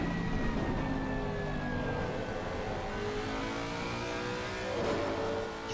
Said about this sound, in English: Don't see very many Lexuses on the grid in ACC anymore. Absolutely fantastic sounding car.